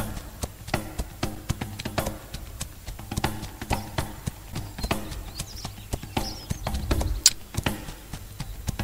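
Hooves of a horse in the horse-riding simulator game Ostwind clip-clop in a steady, moderately loud rhythm with occasional sharper knocks, heard alone without talk.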